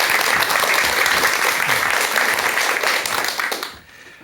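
An audience claps to welcome a doctor giving a lecture on mental health, a dense burst of applause that fills the room and then cuts off sharply near the end.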